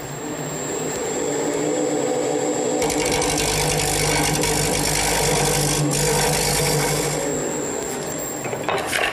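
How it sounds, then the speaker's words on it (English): A parting tool cuts into a spinning wood turning on a lathe for a corner chair, giving a steady loud rasping scrape over the motor hum that builds partway through and holds for several seconds. "For this last portion, I'm going to use my parting tool to clean it up."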